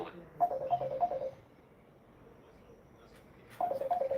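A mobile phone rings in repeated short electronic bursts, two ringing phrases separated by a quiet pause, fairly close and clear.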